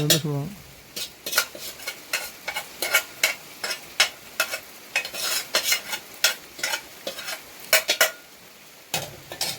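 Mustard seeds tempered in hot oil for a Kerala village-style sardine curry, popping and sizzling in a string of sharp, irregular crackles up close, with pan scrapes and clinks mixed in.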